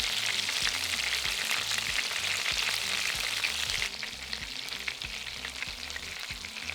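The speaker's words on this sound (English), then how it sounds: "Once the oil's hot, add in the prawns." Prawns fry in hot oil in a frying pan for Bang Bang shrimp, giving a loud, steady crackling sizzle that continues throughout and eases slightly partway, with no talking.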